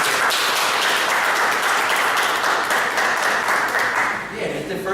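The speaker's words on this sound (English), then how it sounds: "Let's have a round of applause for them." Audience applause for students appearing on a radio show, dense and steady clapping filling the whole stretch before easing slightly near the end.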